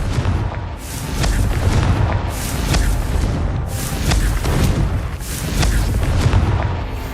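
Repeated Confringo explosive spell blasts in Hogwarts Legacy boom loudly in a steady series of heavy, rumbling bursts about a second apart, with no talk.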